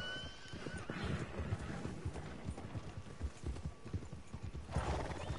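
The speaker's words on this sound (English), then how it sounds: "Oh man, you shot the horse." A shot horse in Red Dead Online whinnies loudly, its hooves clopping rapidly throughout, with a second neigh breaking out near the end.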